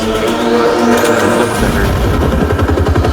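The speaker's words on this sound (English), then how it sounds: "It's a bus." A bus engine under way, a steady loud mid-pitched drone with a rising whine early on, then settling into a throbbing rhythmic rumble close by, with no talk over it.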